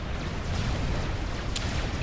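Artillery fire in the strategy game Forged Alliance Forever makes a dense, continuous rumble of overlapping distant booms, fairly loud with no distinct single blasts, and no voices.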